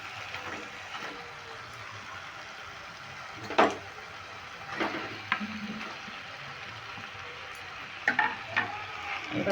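Fried potatoes are stirred into tomato masala that is releasing oil, a low steady sizzle under a medium flame broken by a few scraping stirs and light knocks.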